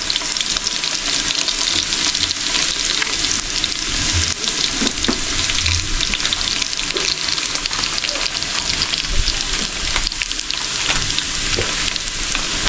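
Mustard seeds frying in a pan for a Sri Lankan village-style dum biryani, a dense, loud, continuous sizzle and crackle throughout, close up with no talking.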